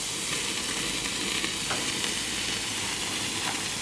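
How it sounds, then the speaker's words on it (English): Steady, dense sizzling of pork chops searing on a hot grill, a continuous crackling hiss with faint pops, no talking. "Now we're ready to put our pork chops on the grill."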